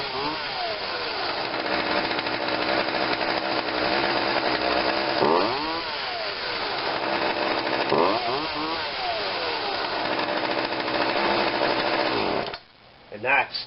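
A Craftsman chainsaw built by Poulan with a 16 inch bar runs loud and steady after repair, its engine revving up and down in a few swells before cutting off near the end.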